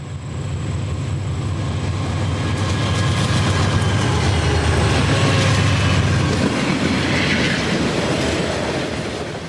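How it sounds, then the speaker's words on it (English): A CSX northbound freight, train R573, climbing a grade out of Sparta on the Louisville to Cincinnati line in 1995: heavy diesel rumble and rolling wheel clatter swell loud and close, with faint squeals, then ease slightly. "Northbound train R573 is climbing its way up and out of Sparta."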